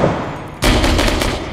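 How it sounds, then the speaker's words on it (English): Military gunfire during an apartment building mission in Six Days in Fallujah: a sudden loud burst of automatic rifle fire, close and rapid, rattling on for about a second after a brief lull. "Who's shooting?"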